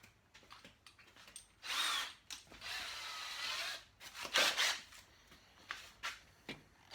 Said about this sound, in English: I probably should go one size bigger drill bit